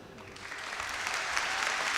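Audience applause at a folk ensemble's annual concert, a crowd clapping steadily and building slightly in loudness, with a faint voice underneath.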